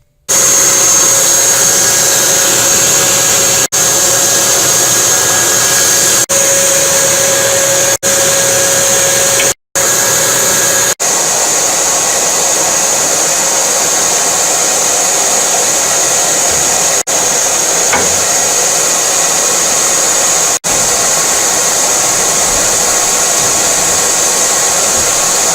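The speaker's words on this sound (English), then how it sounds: "I'm going to plug my vacuum in, and I'm going to just give it a" Vacuum cleaner sucking dust from a furnace motor, a loud continuous whine and roar for the whole stretch, broken by a short cutout and a few faint clicks.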